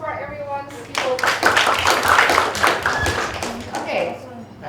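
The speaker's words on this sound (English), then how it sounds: "A round of applause for everyone's utopia." An audience at a workshop breaks into a short burst of clapping that swells quickly and stays fairly close, with a voice speaking over it at the start and end.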